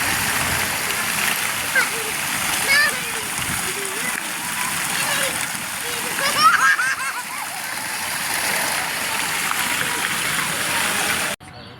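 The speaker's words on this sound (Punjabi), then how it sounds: "ਇਹ ਹੈ ਦੀਪਵਾਰਾ ਫਵਾਰਾ ਜੋ ਸ਼ੇਰ ਦੇ ਮੂੰਹਾਂ ਵਿੱਚੋਂ ਪਾਣੀ ਬਰਸਾ ਰਿਹਾ" Water splashes and patters steadily from a fountain whose lion-head spouts pour into a basin at Gurdwara Parmeshar Dwar Sahib, a continuous near wash with people talking in the background.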